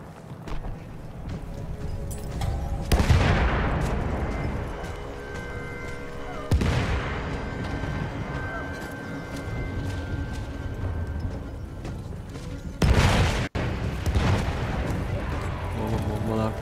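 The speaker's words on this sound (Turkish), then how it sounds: "Oğlum bombalar patlıyor lan, bir şeyler oluyor lan" Bombs explode and guns fire on a Battlefield 1 battlefield, with three big booming blasts spaced several seconds apart over a constant roar of distant gunfire and combat noise, and voices talking through it.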